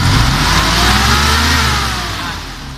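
Car engine revved repeatedly while checking whether the distributor's advancer arm moves, a loud steady mid-range roar that holds high and then eases slightly toward the end, with no talk.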